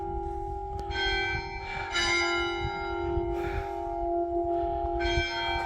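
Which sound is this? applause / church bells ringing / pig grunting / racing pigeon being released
church bells ringing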